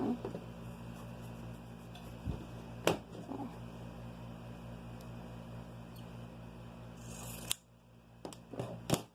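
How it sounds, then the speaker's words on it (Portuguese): Scissors cut fabric for a nursing pillow, giving a few quiet, close snips and clicks spread over a soft, low background hum. "Vou achar aqui o meio e vou cortar."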